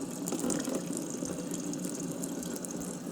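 Water poured onto a NeverWet-treated shoe that is not waterproof on its own: a continuous close splashing gush of liquid striking and running off the surface, steady and fairly loud throughout with no talk.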